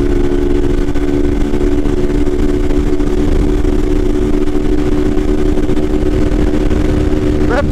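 Comando Jet and 2022 Titan 160 motorcycles race from a standing start, their loud, close engines roaring in a steady, unbroken drone that runs straight through.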